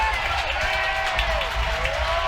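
A college baseball crowd at a Tennessee vs Florida game roars steadily in support of Tennessee freshman pitcher Jay Abernathy, a sustained cheer filling the stadium with whistles rising through it.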